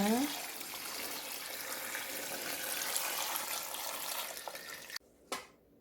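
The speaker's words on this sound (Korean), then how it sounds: "물 만들어 놓은 거 부어줍니다." Water pours steadily into a container of radish water kimchi with a rushing, splashing sound, stopping abruptly near the end, followed by a brief clink.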